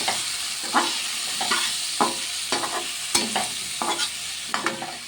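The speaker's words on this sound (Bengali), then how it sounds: "এবার একটু হলুদ গুঁড়ো দিয়ে দিচ্ছি, বেশ সুন্দর করে নাড়াচাড়া করবো" Potato and eggplant curry with turmeric being stirred in a pan, a steady sizzle broken by repeated scraping strokes of the spoon at an even rhythm, close and clear with no talking.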